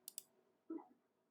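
Computer mouse clicking the X in a software interface, two quick sharp clicks followed by a softer, duller click, faint and close in a quiet room.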